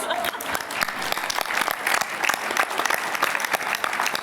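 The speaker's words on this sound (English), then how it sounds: "Can we give them a round of applause, please?" Steady, dense applause from an audience at a student voices panel on school climate, continuous clapping throughout at moderate loudness.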